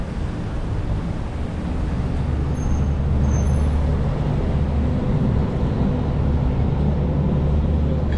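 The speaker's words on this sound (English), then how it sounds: "Motor Jeep sounds like it's just gonna fucking give up at any moment" A struggling Jeep engine runs with a steady, loud low rumble and a rough droning tone out on a street, holding continuously without letting up.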